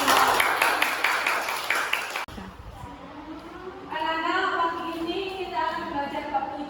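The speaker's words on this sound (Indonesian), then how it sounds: "Tepuk tangan untuk anak kelas 6 yang hebat" A classroom of sixth-grade pupils claps together in a brief, dense burst that stops abruptly, after which a voice speaks over quiet room tone.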